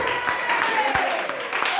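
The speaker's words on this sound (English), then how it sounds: "Can you just clap?" A church congregation claps together, producing a dense, continuous patter of hands that fills the room, with a voice speaking over it.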